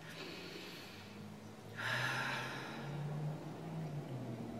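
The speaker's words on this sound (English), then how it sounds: "take a deep breath" A person takes a single slow, audible deep breath, a quiet airy inhale that swells midway and then eases off, close and alone.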